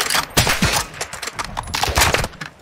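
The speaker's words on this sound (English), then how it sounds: "No, I'm shooting him." Rapid bursts of video game gunfire crackle through a busy firefight in a shooter match, several sharp cracks stacking into near-continuous volleys at close range.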